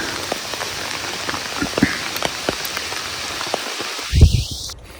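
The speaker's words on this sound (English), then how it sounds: "But the rain's really picking up now." Steady rain patters on a surface close by during a Maine deer hunt, with scattered louder drops, then a low thump and rustle near the end.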